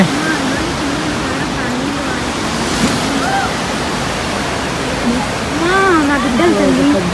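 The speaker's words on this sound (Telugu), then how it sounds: "స్పీడ్ అయితే ఎక్కువ వస్తున్నాయి నీళ్ళు ఒడ్డుకైతే వచ్చున్నాయి" Waves rush fast onto the shore at Velankanni beach, a steady loud roar of surf that fills the whole stretch, with voices calling faintly over it.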